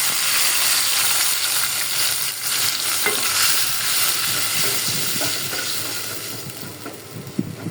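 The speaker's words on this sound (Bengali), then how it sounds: "এখন আমি ডাটা তরকারি বসাই দিতেছি। এখানে সব মশলা দিয়ে দিলাম।" A vegetable stem curry with spices fries loudly in a pan, steady hissing sizzle under intermittent stirring scrapes and taps, close up with no speech.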